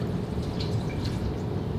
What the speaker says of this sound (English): Pour all the coconut milk out.